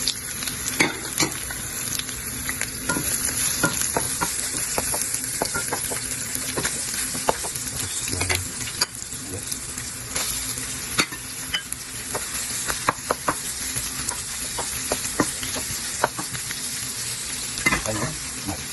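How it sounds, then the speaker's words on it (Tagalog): Ginger and browned pork sizzle and fry in a pan, a continuous close crackle broken by frequent sharp scrapes and clacks of a spatula stirring, with no talking. "Pwede ko na i-saute yung mga ito"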